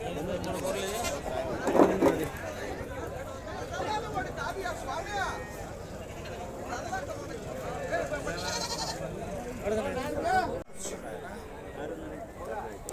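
Rams and sheep bleat at a busy outdoor livestock market, with one loud bleat near the start over a constant murmur of people talking nearby.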